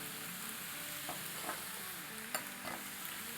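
Macaroni pasta stirred in a pan with soy sauce, vinegar and chicken powder, a soft continuous sizzle broken by a few light scraping taps of the spoon.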